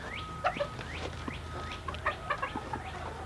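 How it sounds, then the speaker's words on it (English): Several chickens clucking and squawking close by in quick overlapping calls, over a low background hum. "These are my older chickens."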